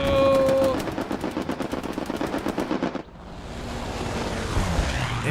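Machine gun fire in the World War II shooter Hell Let Loose, rapid repeated bursts of evenly spaced shots for about three seconds, then the firing stops and a softer rushing ambience rises.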